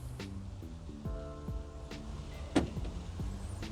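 A rental car's central door locks click open after a remote command. One sharp, close click stands out over a faint, low mechanical hum with no talking.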